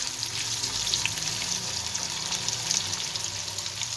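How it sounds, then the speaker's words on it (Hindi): Potato slices fry in oil with cumin seeds and ginger paste, giving off a steady, soft, continuous sizzle with faint crackles throughout and no speech. "इनको हम अच्छी तरह फ्राई कर लेंगे इसमें जीरे में।"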